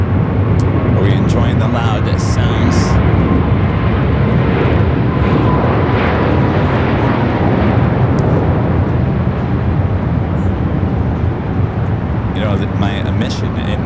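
Jet airliner roaring loudly at Los Angeles International Airport, a broad continuous rumble that fills the whole stretch, likely a takeoff, with a voice talking over it.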